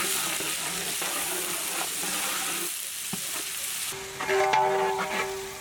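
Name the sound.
chopped onions and raw spices frying in hot oil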